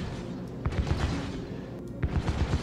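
A size 4 repeater ballista fires in a space combat game, a rapid run of punchy thuds in quick bursts over a steady rumbling background.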